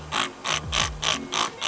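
A handheld trigger sprayer mists Confidor insecticide onto a succulent plant in six quick, evenly spaced hissing bursts, close and fairly loud, with no talking.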